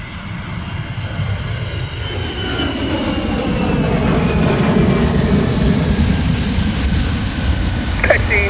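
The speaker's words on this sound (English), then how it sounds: "Giant 2177, runway 18, clear to land." A fixed-wing airplane on final approach to runway 18 builds into a loud, steady engine roar that swells toward the middle and holds close through the end, with no voices over it.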